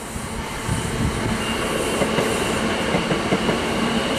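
A Class 387 electric train runs through Stevenage station on the middle line, with a steady, loud roar of wheels and rail noise and faint clicks and squeals throughout. No one speaks.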